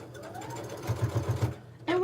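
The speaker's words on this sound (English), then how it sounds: "And when I'm sewing, I'm not pulling on the fabric. I'm letting the feed dogs take it." A sewing machine stitches quilt fabric for a churn dash block, giving a short burst of steady, rapid mechanical pulses. A voice is heard around it.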